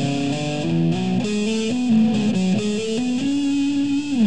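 A long legato phrase on distorted electric guitar, played slowly with slides, hammer-ons and pull-offs flowing as smooth connected notes, heard alone without talk.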